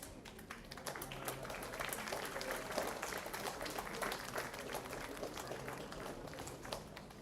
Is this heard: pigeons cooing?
no